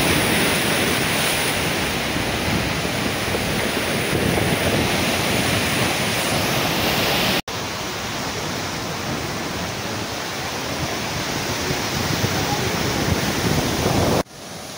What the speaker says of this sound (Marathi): उंच उंच लाटा समुद्रामधून निघत असतात